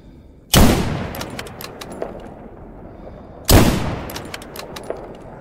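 Two sharp, loud gunshots about three seconds apart, each with a ringing decay, in the S.T.A.L.K.E.R. GAMMA PC video game, with faint clicks between them.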